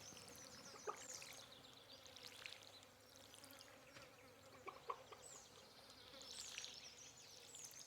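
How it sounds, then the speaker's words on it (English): Summer fly buzzing effect from Stardew Valley, faint, intermittent insect buzzes swelling and fading over a quiet trickling background. "It's like a fly buzzing sound effect that I think may be unique to summer."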